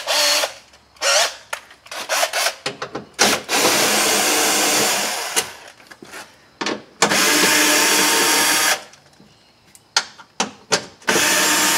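A power drill or impact driver unbolts the window regulator on a 2000-2005 Chevrolet Impala door, with bursts of loud whirring: several short pulses, two long sustained runs, then more brief triggers, close by and alone.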